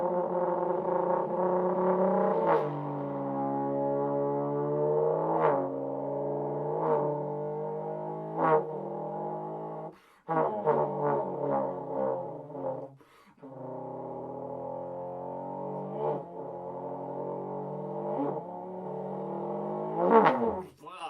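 A trombone mimics a car, with sliding, swooping brassy tones like an engine revving up and shifting, short accented blasts, a brief break, then more revving glides and a final loud rising swell, played solo.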